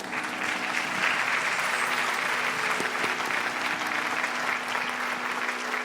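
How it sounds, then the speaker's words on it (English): At a Bharatanatyam dance debut, the audience gives a big round of applause for the orchestra team, a steady and sustained wash of clapping that carries on for several seconds. "Let's give them all a big round of applause."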